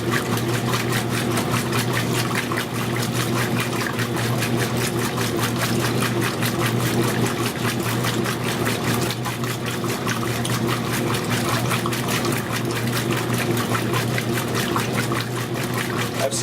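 A Maytag A407 washing machine runs its wash cycle on permanent press at a medium water level: a loud, continuous churning of water and motor with a fast, regular rhythmic pulse throughout.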